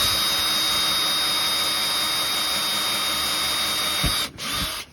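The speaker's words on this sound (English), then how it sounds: "we're just going to drill a hole into this here so that we can fix it back down" A high-pitched power drill with a 1/16 bit whines steadily, drilling a hole in a plastic BMW X3 door part, close and loud, then stops abruptly and briefly restarts.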